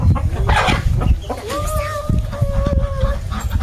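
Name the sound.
desi chickens clucking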